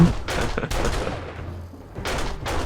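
Gunfire in the zombie survival game 7 Days to Die, set during the first blood moon night as the horde pushes in: several bursts of shots with gaps between them, loud and close.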